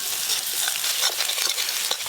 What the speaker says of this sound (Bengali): মশলা ভালো করে কষে নিয়েছি